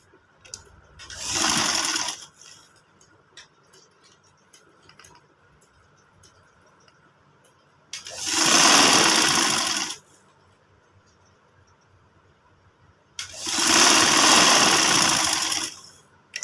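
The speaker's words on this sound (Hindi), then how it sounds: "यहाँ पे हमने अब सिलाई लगानी है।" A sewing machine stitches the side pocket of a pair of men's trousers in three separate runs of about two seconds each. Quiet pauses fall between the runs, and each run whirs close and loud.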